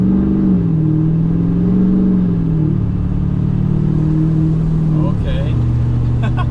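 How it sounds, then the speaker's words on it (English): Duramax diesel truck on a hot day pulling through a gentle acceleration, a steady loud engine drone rising and shifting in pitch, heard from inside the cab with a voice talking over it. "It's gonna be our first little acceleration."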